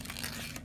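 Origami paper with a fold being pulled open at one corner gives a short, steady papery crinkle and tear-like rustle, close and continuous, with no voice over it.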